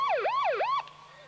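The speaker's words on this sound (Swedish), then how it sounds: "The one is the regular Canadian police siren. The RCMP siren." A Canadian RCMP police siren played from a cassette deck, loud wailing sweeps rising and falling twice before cutting off abruptly.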